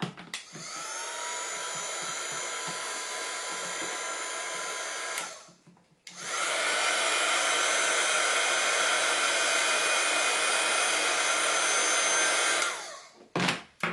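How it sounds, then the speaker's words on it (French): Hair dryer blowing on crayon watercolor ink on paper between colors, a loud steady whoosh running about five seconds, briefly stopping, then restarting for another seven seconds before shutting off. "je vais sécher entre deux pour ne pas mélanger les couleurs"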